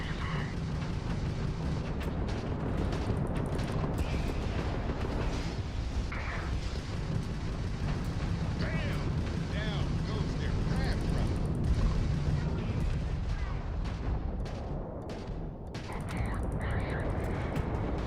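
In the Starfield video game, gunfire and explosive blasts rattle in dense, repeated bursts over a constant rumbling combat din, while a voice talks over the action.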